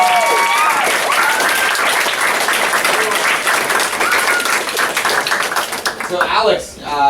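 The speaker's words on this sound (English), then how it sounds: "Give it a applause" A crowd at a graduation ceremony bursts into loud, sustained clapping that fills the room, tapering near the end as a voice comes in.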